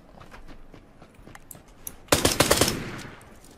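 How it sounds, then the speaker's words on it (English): Rapid burst of Glock 18 automatic pistol fire in the PUBG video game, a loud dense volley of shots breaking out after quieter game ambience and footsteps. "Did you hear me shoot?"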